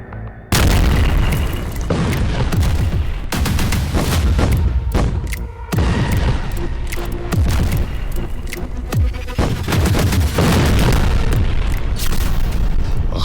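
Heavy bomb explosions in Gaza boom one after another, deep loud blasts with crackling debris and rumbling aftershocks filling the whole stretch, near and overwhelming.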